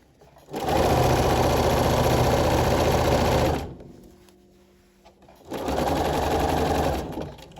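A sewing machine stitches a side seam with elastic in two loud, steady runs of about three seconds and two seconds, separated by a quiet pause.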